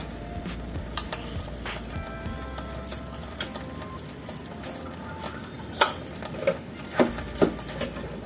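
Jaggery and sugar being tipped into a pot of cooked dal and rice, with light clinks and taps of a utensil against the metal pot, growing sharper toward the end over a soft background hum.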